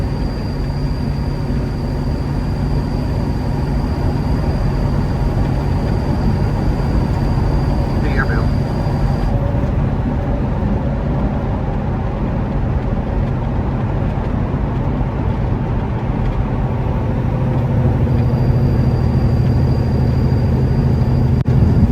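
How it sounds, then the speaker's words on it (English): A turbocharged vehicle engine drones loudly and steadily while driving, with a faint high turbo whine that drops out midway and returns later, and someone talking over the road noise. "And that sound you're hearing is the turbo."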